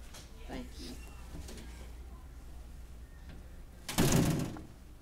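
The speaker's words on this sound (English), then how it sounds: "Becky, would you close our door for us?" A classroom door swings shut with a single loud thud near the end, after soft background chatter and faint voices in the room.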